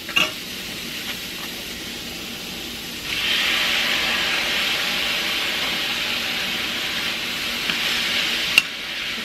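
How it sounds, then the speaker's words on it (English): Shrimp for a spicy sriracha shrimp and broccoli dish sizzle in a hot frying pan, the steady hiss jumping louder at about three seconds and holding, with a couple of faint clicks and stirs. "at this point in time, you want to go ahead and add your shrimp."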